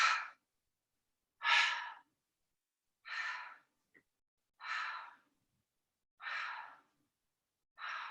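Slow, breathy exhales during an abs workout, six separate airy breaths spaced roughly one and a half seconds apart, close to the mic and fairly soft, with silence between them.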